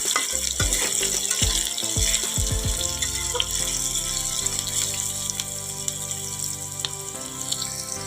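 Potatoes and vegetables fry in hot oil in a home kitchen, a steady hissing sizzle running throughout with a few knocks of pieces being dropped or stirred near the start, no talking.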